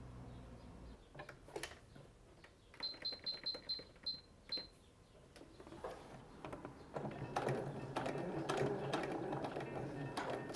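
Domestic sewing machine making a long tack stitch across pinned pleats in fabric, quiet bursts of mechanical whirring and clicking with brief pauses, then a steadier stretch of running stitches, close and faint.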